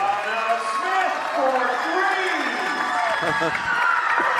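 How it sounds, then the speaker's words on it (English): Crowd at a girls' high school basketball game roars and cheers after a three-pointer, a broad sustained swell of noise with an announcer talking over it. "That brought the crowd to life."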